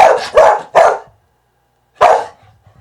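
A dog barks on command: three quick, loud, close barks in a row, a short pause, then one more single bark, with no talking over them.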